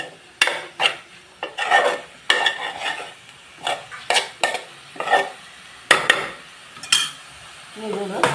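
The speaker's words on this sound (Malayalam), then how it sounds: "നല്ലോണം ഇളക്കി കൂട്ടി എടുക്കാം" Kozhuppa thoran with grated coconut being stirred in a pan, a close series of scraping, rasping strokes with a spatula at an uneven rhythm, each stroke distinct and fairly loud, with a softer clink near the end.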